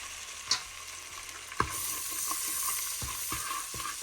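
Shrimp fry in butter with garlic and curry powder in a pan, a steady sizzle broken by a few sharp clinks and scrapes of a utensil stirring, close and without talk.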